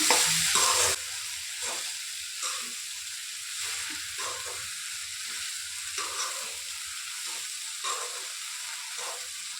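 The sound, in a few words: sponge gourd frying in a pan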